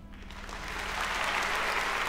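A live audience at a show in Virginia erupts in steady applause and cheering that swells over the first second and then holds loud and sustained, a dense roar of clapping with no voices standing out.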